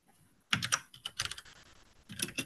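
Typing on a computer keyboard picked up during an online user call, a quick irregular run of close clicks and taps that starts after a brief quiet moment, with no one talking.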